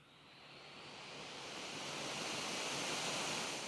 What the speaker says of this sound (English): And here's what high sounds like.